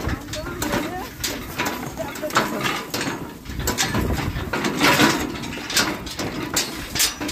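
A bullock cart rolls over a rough, uneven farm track, giving a steady rattling, clattering and creaking rumble with irregular knocks, while a person talks over it.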